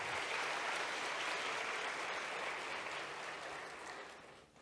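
An audience at the Miss Hanover Area 2023 pageant gives a sustained round of applause for the stage crew, dense and even at first, then gradually thinning and fading toward the end.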